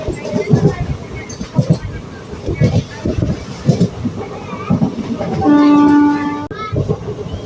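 A train at a railway station near Guruvayur or Ernakulam sounds a sustained horn blast near the end, following rolling rail rumble and clatter, with people talking nearby.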